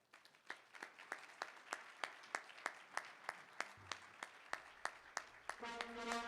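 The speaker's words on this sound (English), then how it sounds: "please rise for your final round of applause as you recess" Slow, sparse clapping at an awards event honouring local heroes, a steady run of individual claps about every third of a second, fairly quiet and distant, with a slightly denser burst near the end.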